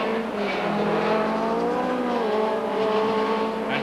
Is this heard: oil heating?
no